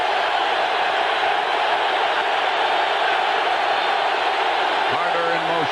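A packed football stadium crowd at a 1991 Raiders–49ers game roars in a steady, loud wash of noise, heard from within the stands under a commentator's voice.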